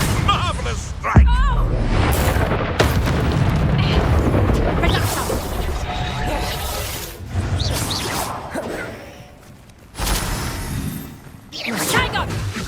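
Explosive spell blasts from Confringo and Bombarda in Hogwarts Legacy, with several booming hits and whooshes, the first sharp and loud, scattered among game voices and battle noise.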